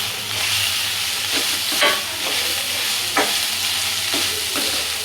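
Cabbage and mixed vegetables fry in a pan with a steady close sizzle, broken by a few scraping stirs of a spatula.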